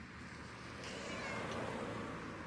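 A cat meows in the point-and-click video game Randal's Monday: one soft, drawn-out cry rising over a steady bed of background game ambience, fairly faint and without speech.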